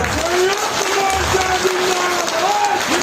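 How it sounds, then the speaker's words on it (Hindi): A crowd at a public rally claps steadily and densely throughout, sustained applause with a faint tonal hum running underneath. "मंच का ताली बजा के स्वागत करो"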